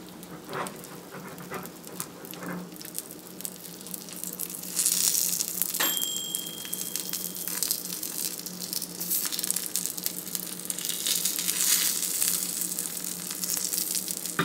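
Food sizzles steadily in a cast iron skillet on a burner turned down to setting 2, just after being flipped, a continuous close hiss with small pops and no talking.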